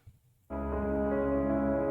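After a brief quiet moment, a rich chord sounds and sustains steadily, full and resonant, like a classical piano passage held under the pedal; a Beethoven piano sample.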